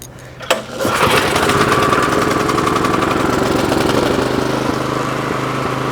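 A Troy-Bilt snowblower engine starts after a short pause and settles into a steady, loud mechanical running drone with a rapid regular pulse, continuing alone throughout.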